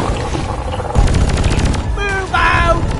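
Rapid bursts of video game gunfire rattle loudly up close, machine-gun volleys and sharper shots overlapping with shouted character voices over a constant combat din.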